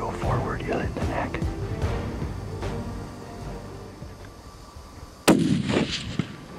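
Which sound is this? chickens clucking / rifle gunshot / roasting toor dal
rifle gunshot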